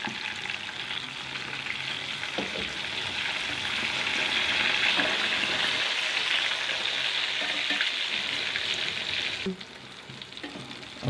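Fish frying in a pan for a crispy fish fry, a steady close sizzle of hot oil with occasional stirring clatter, easing slightly toward the end.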